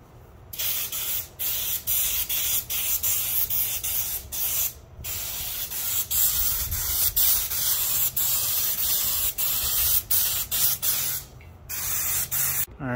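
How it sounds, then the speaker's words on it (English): A spray gun spraying Raptor liner coating hisses in repeated bursts, each lasting about a second, separated by short pauses, loud and close with no talking. "we're going to spray, and I'm using the supplied spray gun"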